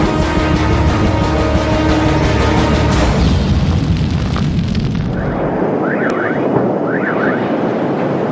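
Israeli airstrikes on a tall Gaza apartment and office building set off a loud, sustained roaring blast that rumbles heavily for several seconds and then thins into debris noise, with faint alarm-like warbles behind it.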